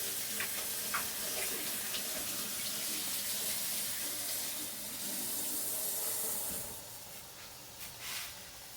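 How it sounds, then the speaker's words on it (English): Steady running tap water splashing into a kitchen sink during hand washing, continuous and close, with brief clatters toward the end as the flow changes. "Wash my hands."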